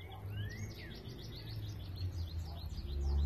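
Wild birds chirp near garden planters made from dresser drawers, a flurry of quick, high tweets and short trills repeating across the moment, fairly faint over a low background rumble.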